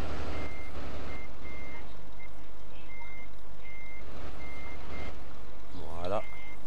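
A Renault truck reverses in a farming video game set in rural Belgium, its steady loud reversing beeper repeating evenly over a constant engine drone, with a short rising mechanical whine near the end.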